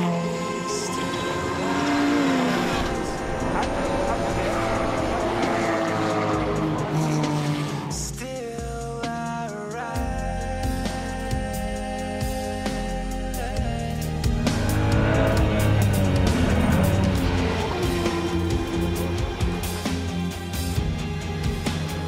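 Racing cars, BMWs and Mercedes in a VLN endurance race, roar past in a dense pack, engines howling loud and close with shifting revs and tire squeal throughout, no talk over it.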